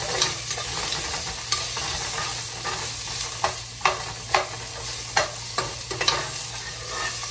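Lemongrass and ginger sautéing in a little oil in a smoking hot pan give a constant sizzle, with a series of stirring scrapes growing more frequent toward the end.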